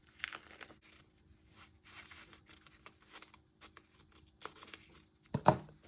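Scissors snip and rustle through paper during an A5 ring planner set-up, several quiet intermittent cuts and crinkles close by, with one sharper crunch near the end.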